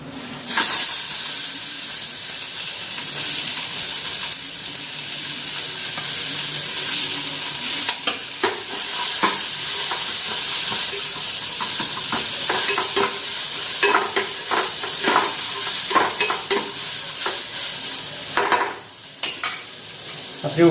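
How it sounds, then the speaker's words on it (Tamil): Onions fry in hot oil for a Tamil egg roast gravy, a loud, steady sizzle broken by repeated scraping stirs of a spoon against the pan. "இப்போ எண்ணெயை ஊற்றிட்டு எண்ணெய் சூடானதும் வெங்காயத்தை போட்டுருங்க."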